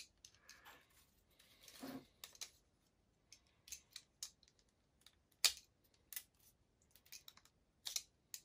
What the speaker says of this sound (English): I'm gonna cut off the extra toothpick here